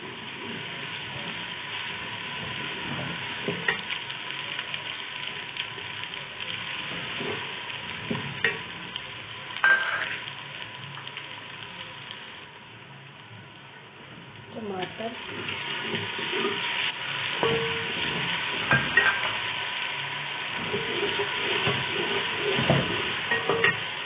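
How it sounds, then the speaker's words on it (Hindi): Chopped onions sizzle and fry steadily in a pan while browning for vegetable pulao, with occasional scraping and stirring sounds over the constant crackle. "प्याजों को अब करूँगी ब्राउन"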